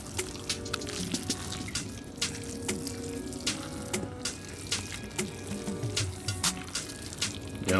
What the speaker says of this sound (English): Stir that risotto up.